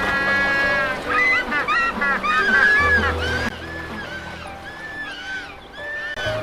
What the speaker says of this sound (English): The African penguin, smaller than its Antarctic cousin, yet just as tenacious.